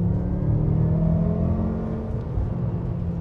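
A BMW M5 engine at full throttle in third gear, heard from inside the cabin: a steady, moderately loud droning hum with a low rumble that holds through the clip, no voices.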